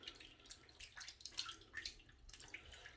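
A hand rinsed of soap foam under a running tap, with soft, close splashing and dribbling water in uneven bursts at low level, no talking.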